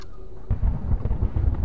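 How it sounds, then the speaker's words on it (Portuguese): Low thunder rumbles in the horror game Zemblanity, a sudden deep pulsing roll that starts after a quiet moment and keeps rolling to the end. "Já vem uns barulhos de trovão pra deixar suspense"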